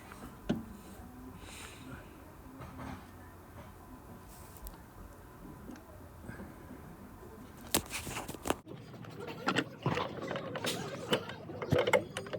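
Socket wrench with an extension loosening the nuts on the brake master cylinder of a Toyota Corolla 1.8, quiet ratcheting clicks and metallic handling, busier and closer in the last few seconds, with no talking.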